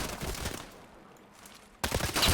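Gunfire in the video game Hired Ops: dense bursts of shots at the start, a quieter lull, then another loud volley of rapid fire in the last half-second.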